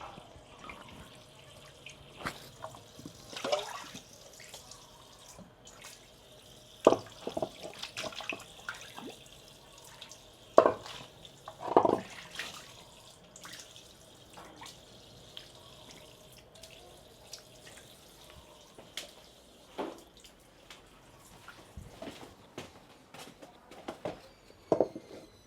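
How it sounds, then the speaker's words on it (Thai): Soil-caked produce being rinsed clean under a running tap, with water splashing and dripping into a sink in uneven bursts; several louder splashes stand out against a faint steady trickle, and no one speaks. "ล้างเลยหลายหนังเด้อพี่น้องเพราะว่าที่รอเพิ่นอยู่ในดินเนาะ"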